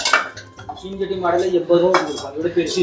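Clay pots knock and clink against each other in a few quick, close bursts, with a voice speaking alongside.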